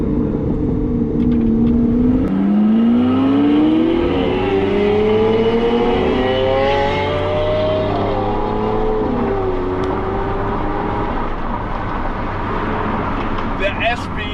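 A Lamborghini Aventador SV engine drones steadily while driving, its pitch climbing through the gears with brief dips at shifts, loud and close under intermittent talk from inside the car.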